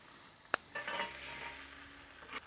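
Bacon jam smash burgers sizzling on a griddle just after flipping: a sharp scrape-click, then a steady soft hiss of frying patties close by, with no talk.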